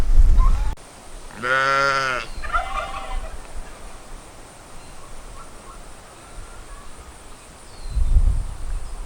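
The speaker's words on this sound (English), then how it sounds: "Yeah, sheep are over back here." One loud, close sheep bleat rings out at Old Bethpage Village farm, a brief wavering cry followed by quiet outdoor ambience and a couple of low thumps.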